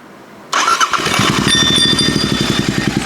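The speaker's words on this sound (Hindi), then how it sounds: "तो चलिए अब अपनी जो बाइक है उसे स्टार्ट करते हैं, उसके बाद आपको इसकी असली साउंड मैं उसको सुनाता हूँ।" A Royal Enfield GT 650 motorcycle fitted with an SSP exhaust cranks and fires after a brief quiet moment, catching into a loud, deep, rapidly pulsing idle that stays close and steady to the end.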